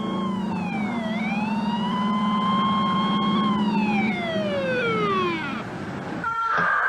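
An emergency vehicle siren wails loudly and close by, sweeping up and down in long slow glides before dropping away, with steady traffic rumble underneath.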